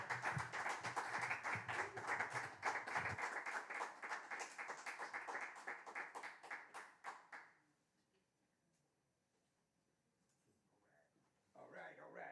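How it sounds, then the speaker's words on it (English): Audience applause rings out for a solo trombone concert, dense steady clapping for about seven seconds before fading into near silence, with a few scattered claps and some voices returning at the end. "Please give her an applause."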